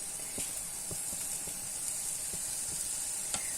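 Soft, steady sizzling and bubbling of tomatoes cooking in a covered pan, with occasional small pops, quiet and close, no voices.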